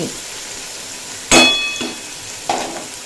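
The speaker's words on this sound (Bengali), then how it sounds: "লাউ হাই ফ্লেমে দেড় মিনিট মতো ভেজে নিয়েছি" Chopped bottle gourd fries on high flame in a pan, giving a steady hissing sizzle broken by a sharp metallic clank and a softer scrape of the utensil.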